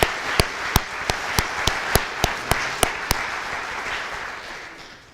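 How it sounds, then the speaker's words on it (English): A school assembly audience applauds teachers and school officials, with sharp, evenly spaced claps close by riding over a broad wash of crowd clapping that gradually fades out. "if we could give all the teachers and the school officials a quick round of applause"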